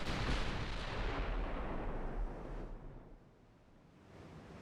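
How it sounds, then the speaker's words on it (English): A salvo of 9-inch naval guns fires from a battlecruiser in a naval warfare game. A loud, rumbling broadband blast rolls for about two seconds, then fades into a low, windy ocean-like wash. "Got first salvo off."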